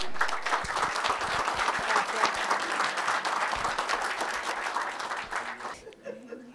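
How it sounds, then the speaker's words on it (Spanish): Sustained conference audience applause, dense and even, fading out toward the end with a few scattered claps. "La recibimos con un fuerte aplauso."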